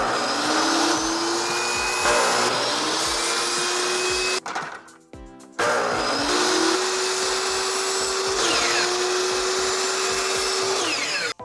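A power saw whines loudly and close while cutting a miter on a trim piece for shelves, running for several seconds, pausing briefly, then cutting again.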